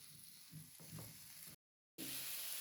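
Food sautéing in a pan for Japanese curry katsu, a soft steady sizzle with a few light stirring knocks, cut by a short silent gap before the frying resumes a little louder.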